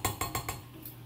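A metal teaspoon dips into a container of baking soda for chocolate chip cookie dough, making four quick light clinks in a row followed by a faint tap, close and quiet with no speech.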